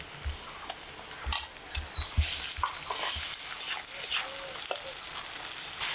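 Onions sizzle softly in a kadai while ginger paste is stirred in, with scattered scrapes and clinks of a spoon against the pan, fairly quiet and close throughout.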